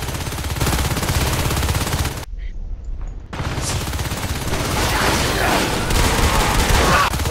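Rapid gunfire from the Natural Selection 2 video game rattles loud and continuous, breaking off for about a second before resuming in dense bursts that grow slightly louder toward the end.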